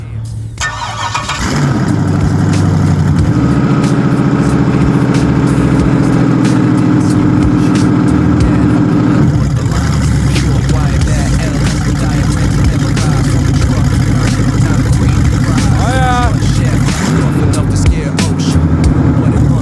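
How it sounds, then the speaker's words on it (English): A loud water pump engine turns over and keeps running at a steady drone, its pitch shifting slightly as it revs. "We're going to see if the actual water pump here is going to pump water out"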